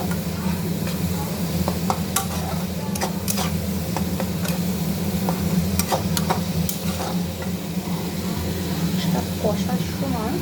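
Spice paste of ginger, garlic, onion, tomato, cumin and coriander stir-fried with prawns and pointed gourd in a pan, a steady loud sizzle with frequent sharp scraping clicks of a spatula throughout.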